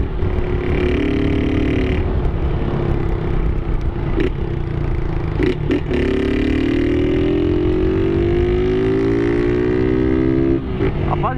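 Honda Titan 160 motorcycle fitted with a Polimet exhaust, held near top speed: a loud, continuous engine drone climbing in pitch through the gears with brief shift dips, heavy wind roar behind it and no talking.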